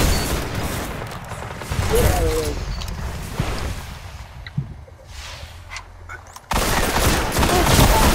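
Destiny Iron Banner gunfire crackles in rapid bursts among mechanical clanks and a thump, loud at first, fading in the middle, then surging back, with game sounds throughout.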